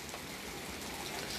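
Freezing rain falling outside a porch, a steady, dense hiss of drops that holds even and constant throughout, with no talk.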